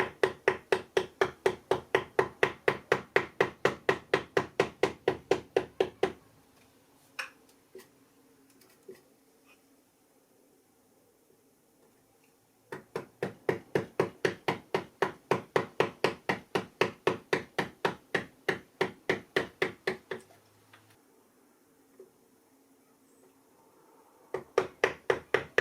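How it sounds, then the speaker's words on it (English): A V chisel cuts into linden wood while an eye is carved, giving rapid, evenly spaced taps in bursts separated by quiet pauses, close and alone with no voices. "we're going to start with the V chisel"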